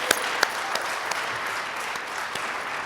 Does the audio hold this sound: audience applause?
yes